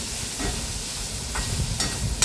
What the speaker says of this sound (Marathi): ते छान फ्राय करून घ्यायचं मस्त कढईमध्ये त्या तेलामध्ये